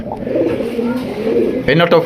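Low, rolling pigeon coos rumble steadily and close by, with a brief burst of a voice near the end.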